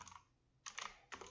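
A computer keyboard in quiet close-up, with a brief soft keystroke at the start and two more distinct clicks later, the last a slightly stronger press.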